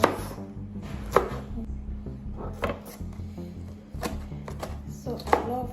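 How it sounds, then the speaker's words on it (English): A knife cuts through onions on a board for a fried rice dish, giving a run of sharp, close chopping thuds at an uneven pace, with kitchen background hum and a few quiet voice sounds. "So I'm going to slice my onions."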